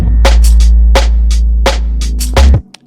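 Synth line in a liquid drum and bass track built in Ableton Live, with reverb added: loud sustained tones under repeated bright plucked stabs, ringing out and then cutting off abruptly near the end.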